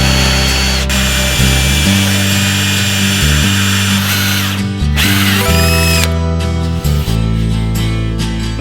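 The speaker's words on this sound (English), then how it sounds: "take this 3 1/4 inch hole saw and drill out the holes" A power drill whines loudly as a 3 1/4 inch hole saw cuts into MDF board for can lights, its pitch rising and falling in repeated bursts with brief pauses.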